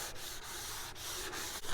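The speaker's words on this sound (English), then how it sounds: "So we're going to take this little sanding block I've got," A small sanding block scrubs back and forth over wooden deck steps, a close, steady rasping rub in quick repeated strokes, with no voices.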